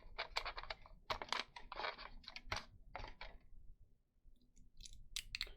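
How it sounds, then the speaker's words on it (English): Tape is stretched and pressed to fix a foam cup onto an aluminum pie pan, heard as close, bursty crinkling, tearing and rubbing in quick clusters with a brief pause before more crackly handling. "using tape, I'm going to secure that foam cup onto the aluminum pie pan"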